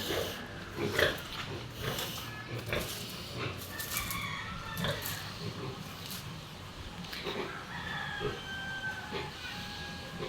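Pigs in a backyard pen at a rural home, grunting and snuffling in scattered bursts through steady outdoor background noise, with chickens clucking nearby.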